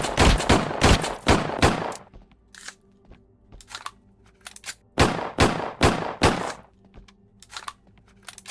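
Video game gunfire emptying a magazine in two long bursts of rapid, loud, sharp shots, separated by a quieter stretch with scattered single shots and clicks, with no talking.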